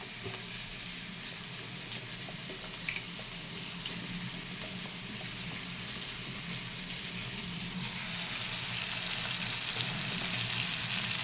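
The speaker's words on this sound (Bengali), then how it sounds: "এটাকে আরও একবার ভেজে নেব।" Pointed gourd, stalks and tomato frying in a pan with green chillies and spices, giving a steady, close hiss and sizzle that grows slightly louder over time, with no talking.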